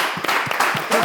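An audience on a French TV show claps to welcome a guest professor, a brief burst of close, rhythmic applause with a few distinct individual claps.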